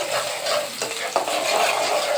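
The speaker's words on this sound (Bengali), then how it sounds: "কড়াইতে তেল বসিয়ে রাখছি আগে থেকে" Steady hot-oil sizzle in a wok fills the clip, a constant bright hiss with a couple of faint clinks partway through.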